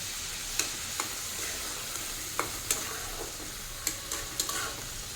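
Prawn curry in oil sizzling softly and steadily in a pan, with faint scattered clicks and taps of a utensil, no talking.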